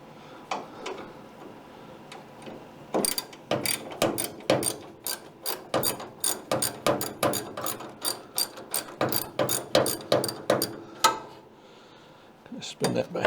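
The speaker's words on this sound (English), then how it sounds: "ratchetize this" A ratchet wrench clicks in quick, rhythmic bursts while turning a spot-welded bolt, a sharp close ratcheting that pauses briefly between strokes and trails off near the end.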